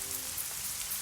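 Steady rain falls in a dense, even hiss of drops on surfaces, close and uninterrupted for the whole moment.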